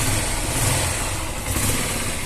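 A Honda XR 150L motorcycle engine runs steadily after a repair, a continuous close mid-range drone at a fairly constant idle with slight fluctuations.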